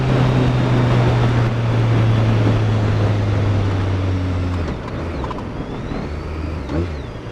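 Motorcycle engine droning steadily while riding, a loud low hum with strong tonal harmonics that drops in pitch and level near the end as the bike slows or shifts, no talking.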